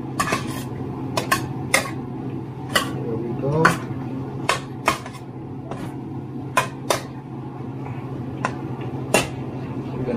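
A metal utensil tosses Filipino-style pancit canton noodles in a pan, giving scattered clinks and taps against the cookware over a steady low background.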